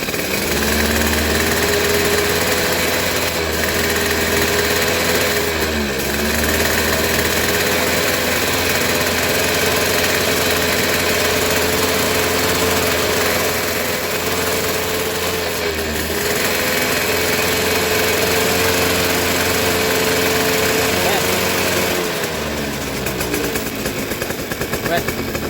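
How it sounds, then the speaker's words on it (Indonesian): A Suzuki RC motorcycle engine with a part disconnected runs loud and steady at close range, a constant buzzing drone with slight speed dips every several seconds and someone talking over it. "Bila digas tinggi motor tidak cedot-cedot walaupun ini terlepas"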